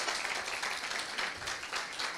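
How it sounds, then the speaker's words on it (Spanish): An audience at an informational talk on suicide claps together in a dense, steady burst of applause that stays fairly even throughout. "Aplausos para Lady."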